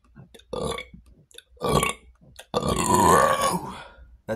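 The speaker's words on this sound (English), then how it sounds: "Let the burps out." A man lets out several long, loud, gravelly belches after drinking porter beer, with short pauses between them and a final drawn-out burp that rises and falls in pitch.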